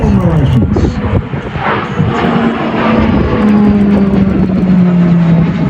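Roulettes display aircraft, propeller trainers flown by Central Flying School instructors, pass overhead at the Avalon airshow in Australia, a steady loud engine drone with a gliding pitch that falls as they go by.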